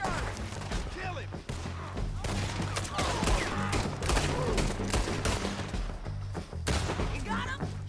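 Rapid gunfire in a Red Dead Redemption 2 shootout, dense overlapping shots and crackling volleys in steady bursts, loud and near, with shouting voices over the din.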